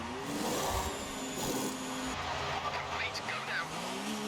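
A Formula One car in the F1 2019 racing game, German Grand Prix, comes into a pit stop for tyres, engine tones shifting and whining with mechanical clatter, while someone talks over it.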